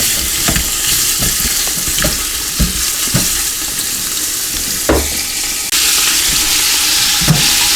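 Food browning in a pressure cooker pot, a loud, close, continuous sizzle and fry with occasional stirring scrapes and clacks throughout, steady and dense with no talk.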